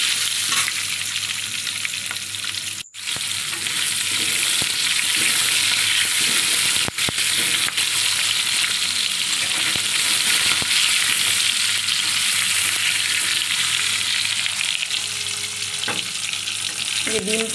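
Onions fry in oil in a kadai with a continuous, loud sizzle and occasional stirring scrapes, while a brief sharp knock cuts through early on and no one speaks.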